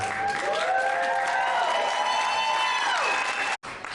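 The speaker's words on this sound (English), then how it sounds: "Please give her a warm round of applause." An audience at a Korean community gala night in New York claps in sustained applause for several seconds while musical tones sound over it, then cuts off abruptly near the end.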